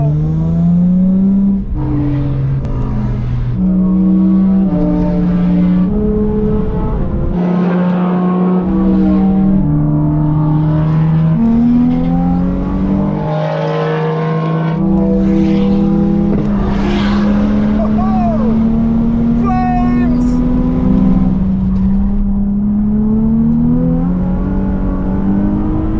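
A car lapping a race track during a track day, its engine droning loud and close from inside the cabin, pitch climbing and falling through gear changes, with a voice talking occasionally over the engine.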